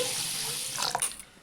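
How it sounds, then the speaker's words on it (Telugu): Water from a tap runs onto sago pearls being rinsed in a kitchen for sabudana khichdi, a steady splashing flow that breaks into a few sloshing bursts near the end before tapering off; no one speaks. "కొన్ని వాటర్ పోసి"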